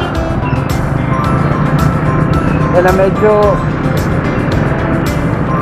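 A Rusi RFI 175 motorcycle engine on a test ride gives a steady, close mechanical drone that runs without a break beneath someone talking throughout.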